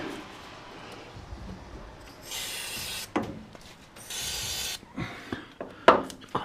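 Aerosol can of white lithium grease sprayed onto car battery terminals of a 1972 Triumph Dolomite, heard as two fairly close hissing bursts of about a second each, with scattered handling clicks and knocks around them.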